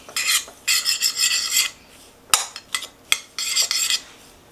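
Shredded coconut being stirred in a bowl with a utensil to colour it black, heard as several bursts of close, raspy scraping and clinking, broken by short pauses and sharp taps against the bowl.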